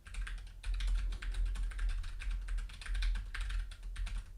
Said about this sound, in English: Let's do a typing test.